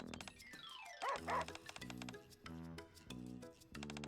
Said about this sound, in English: They're talking to each other. They're barking.